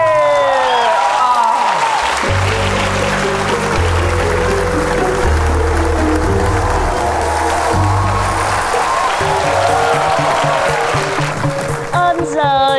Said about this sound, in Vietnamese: Vỗ tay cho bạn.